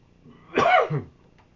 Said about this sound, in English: I got the coughs for some reason here today